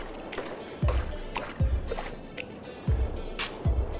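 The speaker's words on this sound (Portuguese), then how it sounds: "É o barulho da água nadando ali, ó." Swimming strokes through water in a Grand Theft Auto game, four rhythmic splashes spaced about a second apart over a soft continuous watery wash, no voices.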